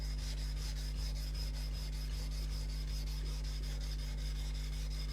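A knife blade is ground on an NSK Oboro 400 whetstone with a steady, continuous rasping rub under a constant low hum, and no one speaks.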